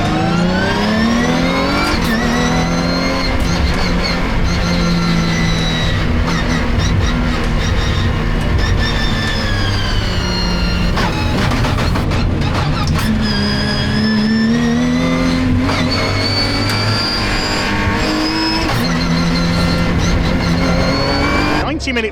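A field of race cars, among them an SG Racing Porsche, roars away at the rolling start of a Britcar endurance race at Oulton Park, engines revving and shifting loudly under continuous commentary.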